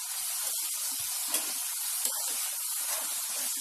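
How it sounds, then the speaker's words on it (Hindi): Shakkar pare dough pieces deep-frying in hot oil give a steady, loud, broadband sizzling hiss, nearly even throughout, with a few soft pops and crackles rising now and then. "गोल्डन ब्राउन होने तक इन्हें फ्राई करेंगे"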